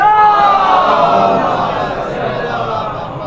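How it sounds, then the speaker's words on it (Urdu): A large crowd loudly chanting salawat at a Muharram majlis, a dense, sustained unison roar of many voices that is close and strong at first and slowly eases off. "ایسی صلوات سے لگ رہا ہے جیسے نعرے"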